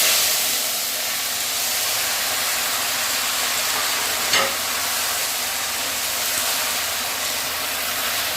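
Ridge gourd stir-fries in hot oil with panch phoron, dried red chili, curry leaves and asafoetida, giving a continuous loud hissing sizzle with one brief knock partway through.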